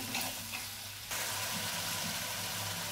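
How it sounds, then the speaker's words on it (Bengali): Spice paste for a mixed vegetable dish with mustard being sautéed in a pan, a close steady sizzle that jumps louder midway as it is stirred, with no talk. "তো এবার ভালোভাবে কষিয়ে নেব মশলাটা।"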